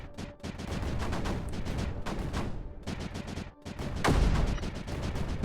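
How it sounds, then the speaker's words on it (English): Mortars fire in the strategy game Creeper World 4, a loud, dense stretch of rapid explosive bursts with brief gaps, one heavier boom near the end. "now the mortars can fire down in this deeper part"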